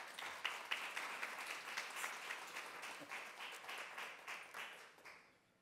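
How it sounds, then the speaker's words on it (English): An audience at a university policy event applauds, steady crowd clapping heard at moderate distance for several seconds before it tapers off. "So give Mike and EO a round of applause as they come"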